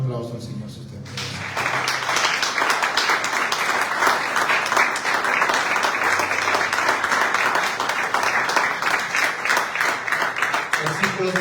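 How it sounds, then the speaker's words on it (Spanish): A church congregation breaks into sustained loud applause after a call during a Thursday service, dense clapping filling the room for about ten seconds, with a voice speaking briefly at the start. "Den un aplauso al Señor si usted quiere."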